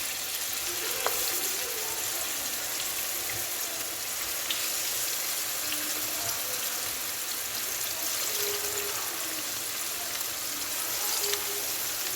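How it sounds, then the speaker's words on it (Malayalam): Steady, dense sizzling of fish frying in hot oil, with faint crackles and small pops throughout, fairly quiet and unbroken. "എണ്ണ വെച്ച് കൊടുത്ത്, എന്നിട്ട് അതിലേക്ക് മീൻ അത് കായുമ്പോൾ ഇട്ട് കൊടുക്കണം"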